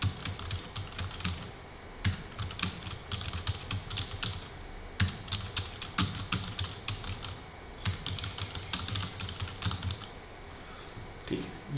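Steady typing on a computer keyboard while entering text in Microsoft Word, a close run of quick clicking keystrokes with short pauses and a few louder key hits, no talking.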